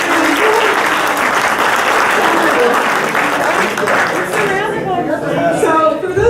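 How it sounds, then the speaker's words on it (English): An audience at a 2013 ECAR installation gathering gives a loud round of applause. The dense clapping is mixed with crowd chatter and then thins out into scattered claps and voices. "Give yourself a round of applause."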